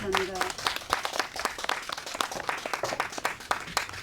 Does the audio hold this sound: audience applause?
yes